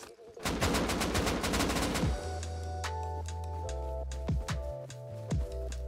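Rapid gunfire in the video game Rust: a fast burst of shots rings out up close, then scattered single cracks follow over a steady humming tone.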